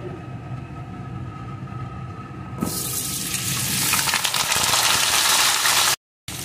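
Pumpkin pieces drop into hot oil with red chilli and break into a loud, steady sizzle that builds and keeps frying close by, briefly cut off near the end.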